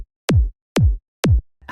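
Three punchy electronic kick drum hits from a dance track stem, each a sharp attack dropping into a deep boomy tail, evenly spaced about half a second apart and played alone.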